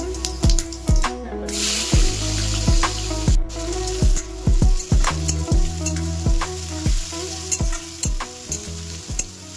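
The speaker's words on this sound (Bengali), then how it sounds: "এবার জিরা আর তেজপাতা ফোড়ন দেব।" Cumin seeds and bay leaf sizzle loudly in hot oil, a close, bright crackling hiss that runs throughout under a steady, regularly pulsing background beat. No one speaks.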